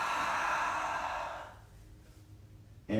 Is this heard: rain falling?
no